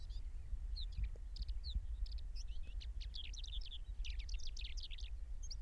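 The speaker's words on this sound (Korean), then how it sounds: "낮은 새소리만이 귓가를 맴돈다." Soft, faint bird calls chirp intermittently at dusk on the Mongolian steppe over a low, rumbling background, growing busier toward the end.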